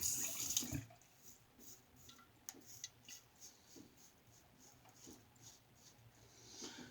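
Hot water running from a household tap into a sink, a faint steady trickle after a short louder burst at the start, with light clinks and handling noises.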